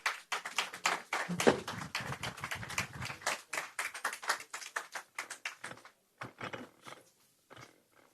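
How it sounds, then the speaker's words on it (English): An audience at a governor's meet-and-greet event gives a round of applause, a scattered, fairly faint clatter of hands that thins out into sparse claps toward the end. "Can we give them another round of applause?"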